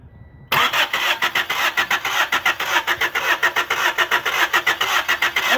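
A 1992 Honda Civic being cranked after fuel pump and filter work, its starter whirring in a fast, even, pulsing rhythm close by for several seconds without the engine catching clearly.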